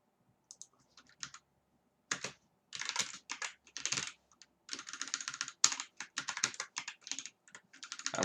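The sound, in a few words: typing on a computer keyboard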